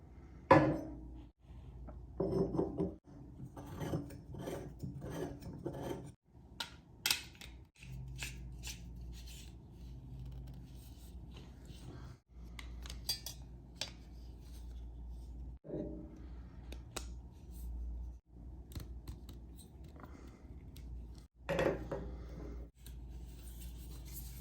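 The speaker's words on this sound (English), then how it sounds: "Now I will show myself assembling the microphone." Parts of a Maono AU-PM500T condenser microphone and its stand are handled and fitted together, giving quiet, scattered clicks, scrapes, rubs and taps spread across the whole stretch, with no talk.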